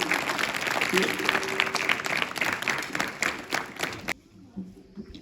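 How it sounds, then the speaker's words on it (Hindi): An audience at a school farewell and award ceremony applauds a prize recipient, dense sustained clapping from a crowd under a speaker's amplified voice, fading out abruptly near the end. "एक बार तालियों के साथ स्वागत और अभिनंदन"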